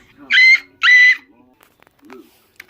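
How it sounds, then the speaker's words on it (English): Two bright, high whistle blasts in quick succession, clear and close, followed by a few faint low sounds. "Then they heard a mysterious whistle."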